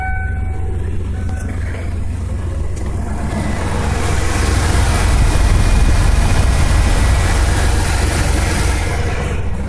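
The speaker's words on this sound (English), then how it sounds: "I'm going to turn the AC on now" A car engine idles steadily with its air conditioning switched to maximum, a dense, loud broadband hum and whir of the belt and fans that swells slightly partway through and continues without pause.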